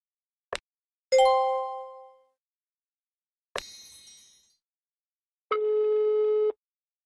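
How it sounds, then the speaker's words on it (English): Phone ringing in the Piper's Pet Cafe game: a brief click, then separate bright electronic ring tones with pauses between them, the last one held steady and loud against silence. "The ringing's getting louder."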